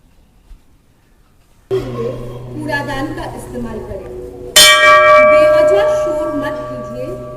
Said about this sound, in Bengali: চলুন বাবার মন্দিরে এসেছি একটু ঘন্টাও বাজিয়ে নিই